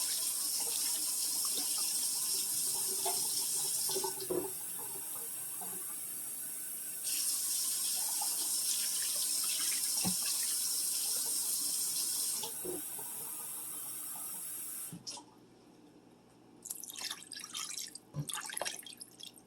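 A can fills under a running kitchen tap in a steady hissing stream that runs loud, eases, surges again, then stops, followed by a few light clinks and splashes.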